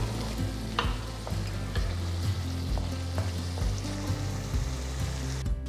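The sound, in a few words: tomato puree masala cooking and sizzling in pan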